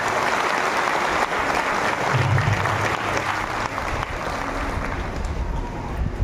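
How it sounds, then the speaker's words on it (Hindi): A large gathered crowd at a spiritual assembly in Jagdalpur, Bastar claps in a dense, continuous roar of applause that holds steady and loud throughout, with no voices heard over it. "में तालियों की गड़गड़ाहट करें"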